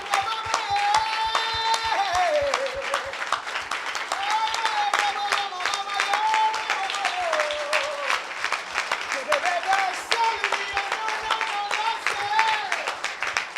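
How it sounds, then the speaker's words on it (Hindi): A church congregation claps in a steady, even rhythm for Jesus while singing and music carry on above it, the claps continuing without a break. "clap for Jesus with honor, with Yeshu love"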